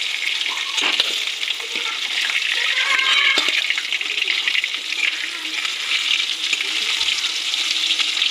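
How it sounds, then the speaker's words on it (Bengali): Nigella and radhuni seeds tempering in hot mustard oil left from frying hilsa fish, a continuous bright crackling sizzle with a few sharp pops and stirring clinks, close and fairly loud, no speech. "এই তেলেই সামান্য কালো জিরে আর সামান্য রাঁধুনি ফোড়ন দিয়ে দিলাম"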